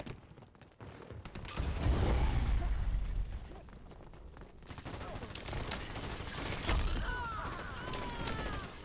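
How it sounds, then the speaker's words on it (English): A weapon reloading in the online shooter Dirty Bomb, with mechanical clicks and clacks over game ambience and distant gunfire, and a brief voice line in the mix. "Reloading."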